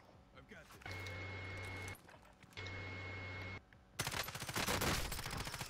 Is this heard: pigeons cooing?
no